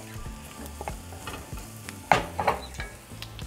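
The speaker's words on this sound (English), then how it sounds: "we're going to add 2 minced garlic cloves" Two minced garlic cloves hitting a hot skillet for a turkey or chicken pot pie, a close crackling sizzle with irregular spatula clicks and a louder scraping burst near the middle, no talk.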